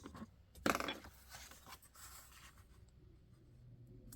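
A glossy book page being folded into an envelope gives soft, close paper crinkles and scrapes, with one louder rustle early on and quiet handling after that.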